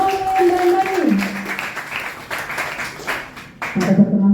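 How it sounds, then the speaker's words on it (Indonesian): A school class applauds students Maulin and Dani with a burst of quick, scattered clapping, joined by a sustained electronic musical tone that shifts pitch and then returns. "Tepuk tangan sekali lagi untuk Maulin dan Dani"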